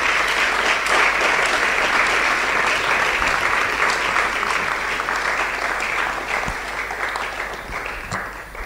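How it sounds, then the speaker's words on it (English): Audience applause welcoming a speaker at a conference on political leadership: dense, steady clapping from a large crowd, loud and close throughout, gradually tapering slightly toward the end. "Ladies and gentlemen, with a huge round of applause, help me welcome Dr. Tony Patin Jesse."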